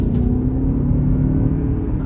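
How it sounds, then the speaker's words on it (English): A 2024 Lexus RX 450h+ Premium Plus plug-in hybrid accelerates hard from a standstill, a steady low engine drone and rumble with a faint CVT whine held evenly across two seconds, heard from inside the cabin. "You do hear the CVT whine up a little bit for about a second or two just while it gets up to speed"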